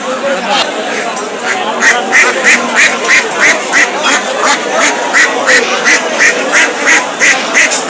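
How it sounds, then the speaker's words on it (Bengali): Domestic ducks at an outdoor village market quack in a rapid, steady run of loud calls, while a murmur of traders' voices and market chatter carries on underneath. "কি হাঁস চাচা এটা?"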